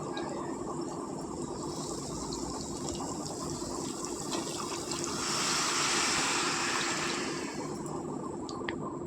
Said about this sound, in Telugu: వాటర్ అందులో వేసుకుందాం.